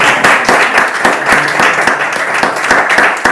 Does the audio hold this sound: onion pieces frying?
no